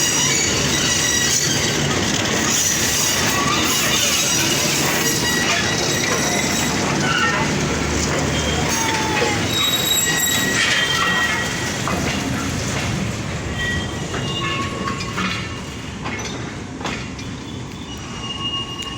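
Train wheels squeal and rumble steadily as a train moves past the Saidpur railway workshop, loud and close from on board, with metallic screeching over a dense rolling roar that eases off slightly toward the end.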